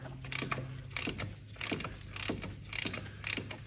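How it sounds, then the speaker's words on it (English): A ratchet and socket work the fill plug on a GM Chevy transfer case, giving rapid, faint clicking bursts of the pawl in a steady back-and-forth rhythm over a low background hum. "If you're using a snap-on socket and ratchet"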